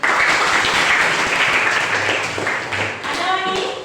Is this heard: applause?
yes